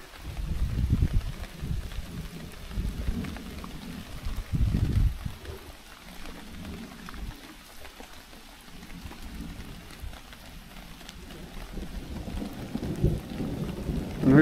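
Rain falling steadily at a riverside campsite with low rolling thunder surging in and out, fairly faint and continuous with no voices.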